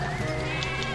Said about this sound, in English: there's a sheep over there